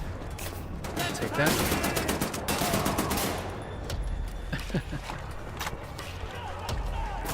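Gunfire rattles through a Wolfenstein: The New Order firefight, with dense bursts close and loud across most of the stretch, mixed with game sounds and footsteps, while a voice speaks briefly over it.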